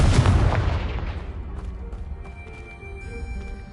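A Confringo blasting spell detonates in a Harry Potter video game: one loud, close boom at the start that rumbles and decays over several seconds into a fading debris tail.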